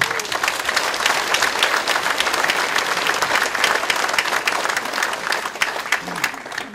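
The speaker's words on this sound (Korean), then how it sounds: "감사와 환영의 박수를 드리겠습니다" A crowd applauds at the founding convention of the New Politics Alliance for Democracy party, a dense, steady wash of many hands clapping that stays loud and even throughout.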